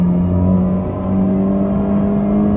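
Honda Civic TCR race car lapping Brands Hatch in third gear, its engine a steady, loud, close onboard drone that holds a constant pitch with a slight dip midway.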